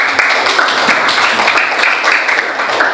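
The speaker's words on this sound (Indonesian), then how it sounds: "Tepuk tangan dong." A classroom claps for a student group after its presentation, a close, loud and somewhat uneven patter of hands lasting a few seconds.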